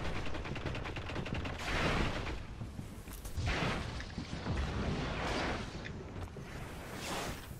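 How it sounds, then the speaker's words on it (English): Grenade explosions in a first-person shooter match, heavy booms rolling out over continuous gunfire, several broad bursts spread across the stretch with no pause in the din. "Yep, they've thrown two grenades."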